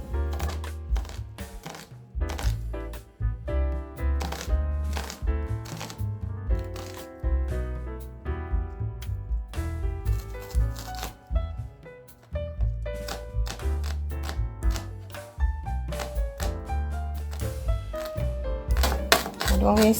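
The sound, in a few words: chopping an onion with a knife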